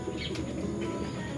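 Pigeons in a loft coo softly in low, throaty calls against a steady background hum, with a faint chirp or wing flutter mixed in.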